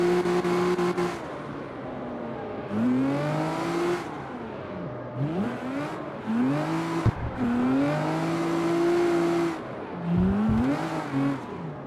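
A car drifts in CarX Street on PC, its engine revving and swooping up and down in pitch as tires squeal through long slides, several surges across the stretch, loud and close with no talking.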